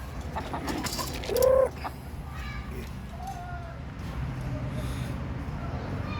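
Rhode Island Red chickens give a short, loud cluck-like call near the start, followed by quieter scattered calls over steady outdoor background noise.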